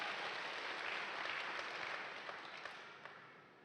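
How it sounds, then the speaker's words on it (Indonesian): A church congregation at a Sunday service applauds, a soft, distant wash of sustained clapping that fades gradually toward the end. "Tepuk tangan buat El Shaddai."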